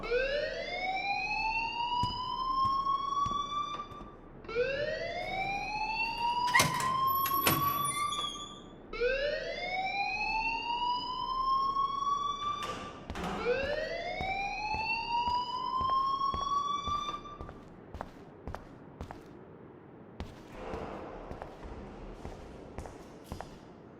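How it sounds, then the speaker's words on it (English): A school alarm in the video game Life is Strange, a loud rising electronic siren that sweeps upward in repeated whoops roughly every four seconds, with a few sharp clicks and knocks between cycles before it cuts off. "please turn off that alarm since that's your job"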